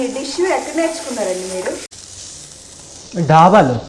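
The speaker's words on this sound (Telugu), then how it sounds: "అల్లం వెల్లుల్లి పేస్ట్ వేసిన తర్వాత పచ్చి స్మెల్ పోయేంత వరకు అల్లం వెల్లుల్లి వే వేపాలన్నమాట" Ginger garlic paste frying in a pan gives a steady sizzle that runs beneath someone talking, fairly close and loud, with the voice dropping out briefly midway.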